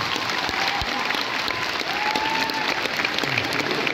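A live audience applauds in a dense, steady wash of clapping hands that lasts throughout, loud and close.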